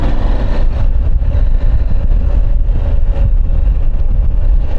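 A KTM 790 Adventure motorcycle engine idles close by, a loud, steady low rumble with an even pulsing throb and no talk over it.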